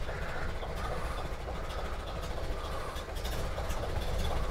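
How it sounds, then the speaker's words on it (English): A Ford Model A engine runs steadily, a loud continuous low rumble and mechanical clatter filling the whole stretch without pause, with no talking over it. "So let's see how it feels with the engine running."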